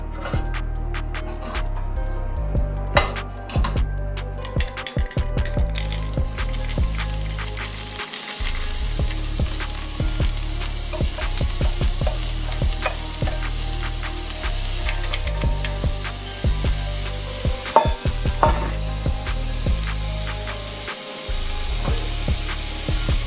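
Finely chopped shallots sweat and sizzle steadily in a little olive oil in a pan, a continuous crackling fry with occasional ticks and clinks, heard alone without talk.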